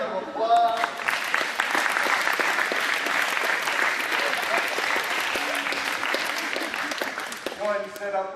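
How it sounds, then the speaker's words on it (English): A live audience breaks into sustained applause, loud and dense clapping that runs steadily for several seconds before tapering off, with a voice briefly audible at the start and end. "Give them a big round of applause."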